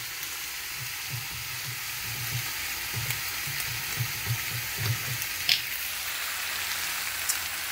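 Eggplant sautéing in a pan with soy sauce and lemons, a steady hissing sizzle with soft rhythmic stirring taps, close and moderately quiet, with no talking.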